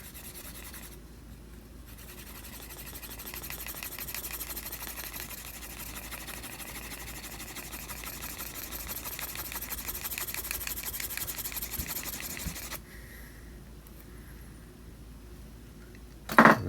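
A leather knife sheath is burnished by hand, giving a steady, continuous rubbing friction that runs close and even for most of the stretch, eases off near the end, then ends in a brief sharp knock.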